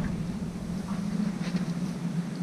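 A small fishing boat's engine idles at dead slow speed, around 800 rpm, a steady low droning hum that holds evenly throughout with no talk.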